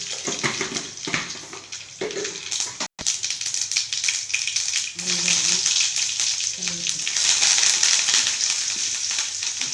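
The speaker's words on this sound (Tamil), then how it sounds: "குழம்பு தாளிசம் பண்ண போகிறேன் கடுகு" Loud, dense crackling and spitting sizzle of seeds popping in hot oil, steady and close, with faint clinks partway through.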